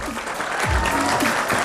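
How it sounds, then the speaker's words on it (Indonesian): An audience applauds a salon team at a hairdressing competition event, a brief burst of dense clapping with a voice faintly audible beneath it. "Berikan tepuk tangan untuk mereka."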